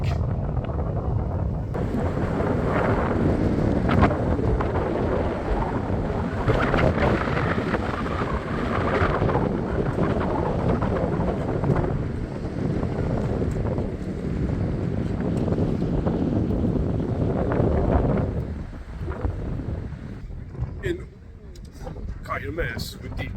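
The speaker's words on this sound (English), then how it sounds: "This is really windy." Strong wind buffets the microphone at Urquhart Castle beside Loch Ness in Scotland, a loud, steady roar for most of the time that drops off near the end, with people talking underneath.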